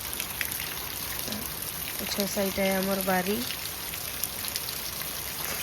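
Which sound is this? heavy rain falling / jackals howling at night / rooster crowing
heavy rain falling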